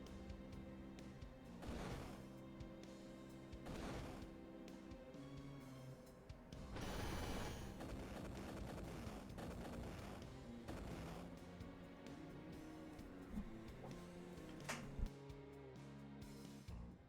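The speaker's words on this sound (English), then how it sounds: "Just explosions every time you take a step." Booming explosions go off at each step in Final Fantasy IV Pixel Remaster, a series of loud blasts at roughly two-second intervals over dense game music, with no talk.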